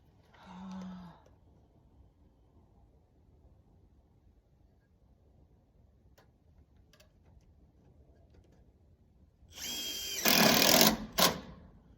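A power drill drives screws through a metal strap to fasten a downspout against a house wall, the loud buzzing bursts coming near and up close after a long quiet stretch.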